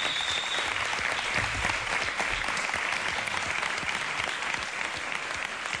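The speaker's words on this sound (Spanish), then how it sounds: "un aplauso para ellos." A seated studio audience at a Spanish-language comedy show bursts into steady, dense applause that holds at an even level for several seconds, close and full.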